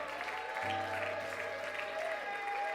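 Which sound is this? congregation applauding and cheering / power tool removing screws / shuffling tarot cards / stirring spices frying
congregation applauding and cheering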